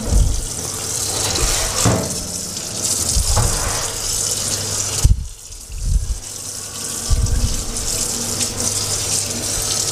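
Shrimp and squid are washed under running tap water in a sink, with a steady close gush and splashes that shift as the seafood is moved and handled beneath the stream.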